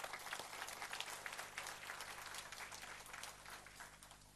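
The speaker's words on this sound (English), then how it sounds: "Let us give her another round of applause for today." Applause for a graduating student at a university convocation ceremony, a faint, distant wash of many hands clapping steadily through a large hall, continuous across the whole stretch with a slight fade toward the end.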